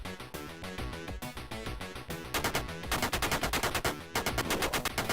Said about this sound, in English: As soon as you can, switch over to the machine gun because you need it.